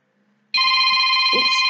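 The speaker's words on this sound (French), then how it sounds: "j'ai dû répondre au téléphone" A telephone suddenly starts ringing loud and near after a quiet moment, a sustained electronic tone with stacked pitches, while a short low sound passes beneath it toward the end.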